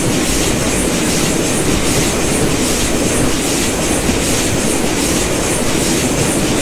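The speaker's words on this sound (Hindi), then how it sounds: "कोई और ट्रेन भी आ रही है यार, काफी शानदार एंट्री मार रही है कर्व पे।" A passing express train from the Indian railways simulator MSTS Open Rails near Bhusaval, sounding loud and steady throughout with a continuous wheel rumble and clattering, no voices.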